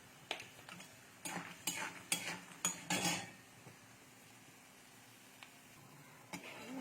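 Peanuts frying in a pan are stirred with a metal spoon in a handful of sharp scraping clatters, close and distinct against a quiet kitchen background, then a lone tap near the end.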